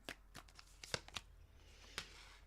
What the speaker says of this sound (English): I shuffle.